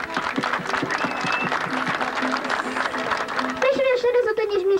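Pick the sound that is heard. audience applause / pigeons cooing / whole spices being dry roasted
audience applause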